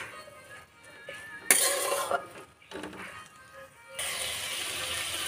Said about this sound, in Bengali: সবজিগুলো ভালো করে মিশিয়ে নেওয়ার পর